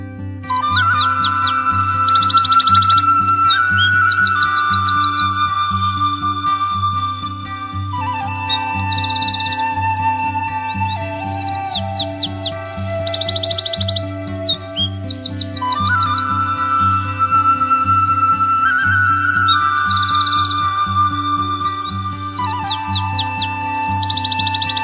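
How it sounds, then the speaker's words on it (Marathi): Birds chirp and trill in mango and jackfruit trees around village houses, repeated bright warbling phrases over a steady, musical drone. "पक्ष्यांचे कर्णमधुर गुंजन कानावर पडतात"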